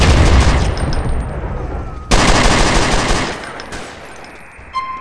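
Rapid automatic gunfire from GTA San Andreas rattles loudly, with a long burst, a sudden sharp blast near the middle that starts a second burst, and a final crack at the end.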